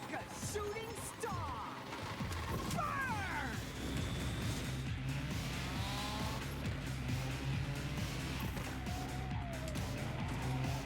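A car drifts around corners in a racing video game on a hilly track, with a steady engine drone and repeated rising and falling tire squeals as it slides, loud and continuous throughout.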